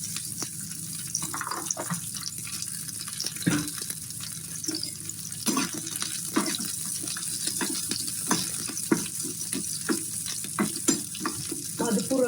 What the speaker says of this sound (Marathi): गोल्डनिश होईपर्यंत त्यांना भाजून घेणार आहे